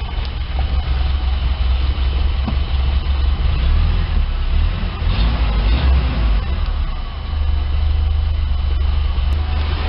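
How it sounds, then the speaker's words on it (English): A Toyota EFI pickup engine from 1985 to 1995 idles smoothly after a fuel pump replacement, a loud, steady low hum with no breaks for the full ten seconds. "Engine seems to be running smooth, so I guess we got fuel pressure"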